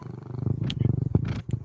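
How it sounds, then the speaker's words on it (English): A pet cat purrs steadily while curled up in a person's lap, a close, rumbling low drone with a regular pulsing rhythm and a few soft breathy bursts on top. "That's the sound you want to hear from a cat when they crawl up in your lap"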